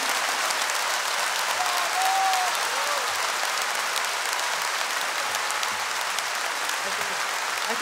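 A concert audience at the Teatro Colón opera house applauds a film-music concert in a sustained, even wash of clapping, with a few faint voices calling out within it.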